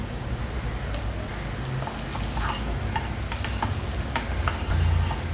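Paneer fried rice with vegetables sizzles steadily in a hot pan while a spoon stirs it, giving scattered scraping and tapping sounds over a dense, even frying hiss.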